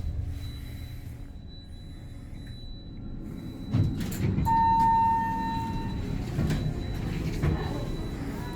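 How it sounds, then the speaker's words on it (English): Freight elevator doors with wheeled rollers on a ThyssenKrupp elevator at a Westfield Century City shopping center rumble and roll open, with a low steady hum and a sustained mechanical tone midway. "I think the freight has wheelie doors. That's what it sounds like."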